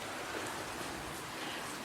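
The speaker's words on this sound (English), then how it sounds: "But this is what we're dealing with. Torrential rain." Torrential rain pours steadily onto a drenched patio on Anna Island in Halkidiki, Greece, a dense, even hiss of drops with no breaks and no voices.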